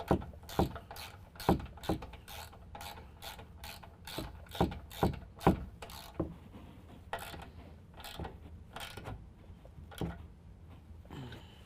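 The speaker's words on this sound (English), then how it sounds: "we can go ahead and tighten down our factory bolt with a 13mm" A ratchet with a 13mm socket tightens a factory bolt during a 6-inch 4-link lift kit install on a 2017 Ford F-250 Super Duty, giving runs of quick, fairly faint clicks in uneven bursts, with no talk.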